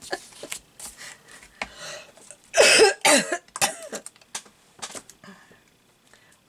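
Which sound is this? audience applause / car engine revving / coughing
coughing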